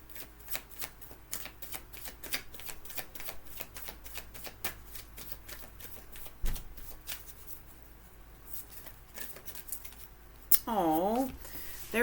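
Wisdom of the Tao oracle cards being shuffled by hand, a close, rapid run of crisp riffling clicks and flutters, with a brief louder swishing burst near the end.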